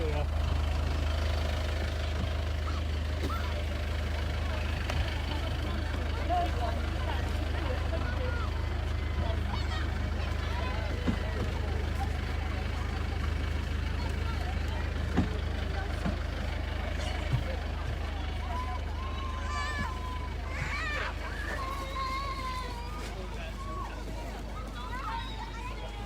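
Steady low engine drone of the Shaldon to Teignmouth passenger ferry, England's oldest ferry service, idling close by throughout with a constant rumble, while voices and general chatter carry on over it.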